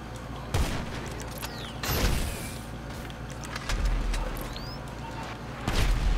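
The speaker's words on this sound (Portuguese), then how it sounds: "olha o cara fazendo rajada em mim" Automatic gunfire in GTA V, several loud rattling bursts spaced a second or two apart over a steady background rumble.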